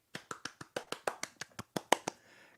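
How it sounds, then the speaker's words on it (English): Hands clap in a quick, even run of about a dozen sharp, close claps, with a brief quiet tail after the last one. "Clapping hands,"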